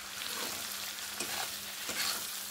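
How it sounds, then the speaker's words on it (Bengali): Capsicum and onion stir-fried in a pan for chili chicken, a steady close sizzle and crackle with light scraping stirs, no talking. "আর ক্যাপসিকাম আর পেঁয়াজটা বেশি ভাজবো না, একটু ক্রাঞ্চি ভাবটা রাখো"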